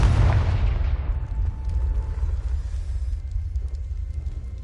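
Confringo blasting spell detonating in the Hogwarts Legacy video game on PS4: a loud, close boom at the start that decays into a long rumbling tail over several seconds, with no talk.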